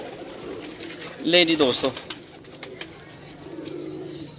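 Ferozpuri pigeons, the gas type, coo in a short burst of rolling, throaty notes near the middle, with faint background birds and someone speaking briefly at the start.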